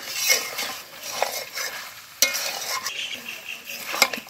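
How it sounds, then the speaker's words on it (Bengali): Country chicken curry with fried potatoes being sautéed in a pan: close, steady sizzling with repeated scraping and stirring strokes and a few sharp utensil clacks against the pot, no voices. "ভাজা আলুগুলো দিয়েও আমি কিছুক্ষণ কষতে থাকবো।"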